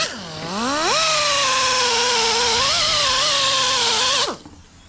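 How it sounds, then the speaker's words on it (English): A mini sander fitted with a 180-grit disc works a diamond-cut alloy wheel, a loud high whine that revs up sharply, holds steady with slight pitch wobbles for about three seconds, then cuts off abruptly. "Mini sander, 180 disc."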